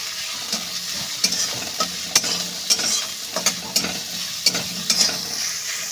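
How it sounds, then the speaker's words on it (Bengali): Chopped onion (two medium) and five or six garlic cloves frying in a pan, stirred: a continuous close sizzle punctuated by regular sharp scrapes and taps of the spoon, with no voices. "এবার একটু নাড়িয়ে নেব।"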